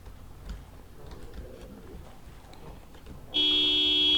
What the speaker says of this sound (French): je klaxonne un coup pour les faire aller vers là-bas.